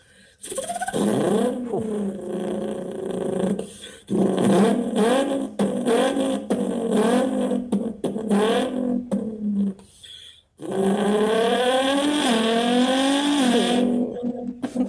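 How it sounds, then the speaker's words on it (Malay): A Nissan GT-R R35 revs hard and accelerates in loud, sustained bursts with rising engine pitch, broken by a couple of brief lifts between pulls, heard up close with no talking. "Yang ni adalah kereta favourite saya. Nissan GT-R R35."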